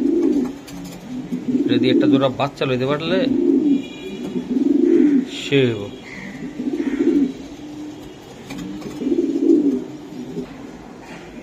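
Racing pigeons from a prize-winning club loft coo in low, rhythmic, repeated rolls throughout, while someone speaks over them at times.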